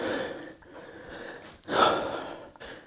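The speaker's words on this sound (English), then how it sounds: "let me catch my breath, lad" Heavy, ragged breathing from a man catching his breath after a leg-day workout set, a series of loud close gasps and exhales with one sharp intake near the middle.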